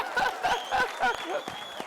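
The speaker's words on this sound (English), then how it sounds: "give yourself a round of applause" Brief applause from a keynote audience at a leadership event, with scattered claps under chuckles and voices, uneven and moderately close.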